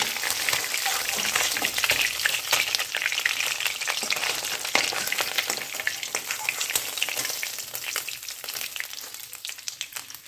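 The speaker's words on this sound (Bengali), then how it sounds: "মাছ আমি হালকা করে ভেজে নিয়েছি। এবার তুলে নিচ্ছি।" Fried katla fish pieces lifted from hot oil, with a steady, dense sizzle and crackle running close and loud throughout, broken by small pops and spits.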